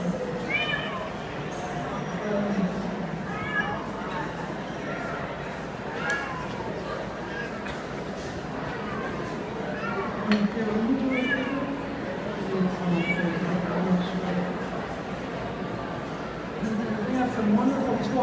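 A cat meows repeatedly, close by, in short wavering calls spread across the stretch, mixed in with someone talking.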